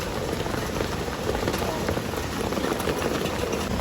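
Steady, dense rainfall pattering on surfaces outdoors, a constant close hiss with no breaks.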